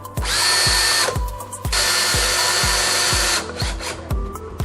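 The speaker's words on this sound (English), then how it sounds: "we're just going to go ahead and use our drill" A power drill whirs loudly in two long runs, each ending in sputtering bursts, with rhythmic ratcheting clicks underneath as screws are driven in close by while fixing a sagging French door.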